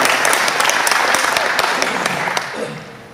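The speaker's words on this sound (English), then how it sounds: "So let's give her a big round of applause." Audience at a club meeting giving a big round of applause for the club treasurer, dense sustained clapping with sharp individual claps, fading slightly at the end.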